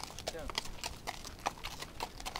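Hooves of a horse being ridden clip-clop in a steady, fairly close rhythm over about two and a half seconds, with a voice talking over them.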